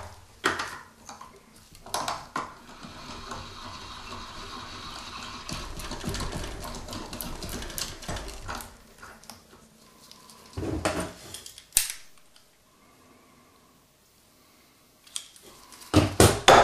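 Trimming 5.7 cartridge brass for reloading, a rough mechanical whirring and scraping that runs steadily for about ten seconds, then a few short clicks and clatters of handling the case, all fairly close with no talk.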